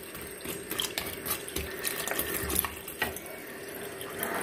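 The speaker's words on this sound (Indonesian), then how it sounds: "Ini dikasih air secukupnya." Water pours steadily into a pot of mixed beef soup, with light clinks of metal and cookware over the running stream.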